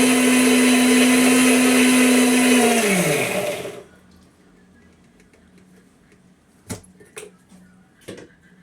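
A mixer grinder whirs loudly as it grinds masala paste, its motor winding down and stopping after a few seconds, followed by quiet room tone and a few sharp clicks and knocks as the jar is handled.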